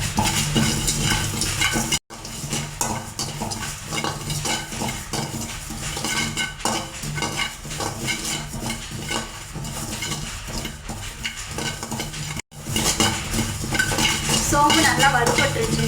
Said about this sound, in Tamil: சோம்பு நல்லா வறுபட்டுருச்சுங்க.